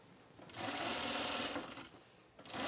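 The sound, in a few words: sewing machine sewing a gathering stitch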